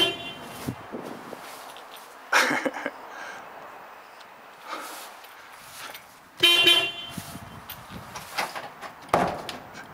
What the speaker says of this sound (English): I have to honk the horn.